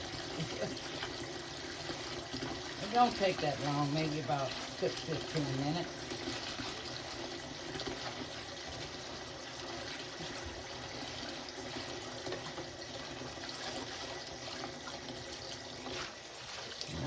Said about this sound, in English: Yes, I wash my greens until the water turns clear.